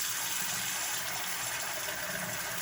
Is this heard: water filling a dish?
yes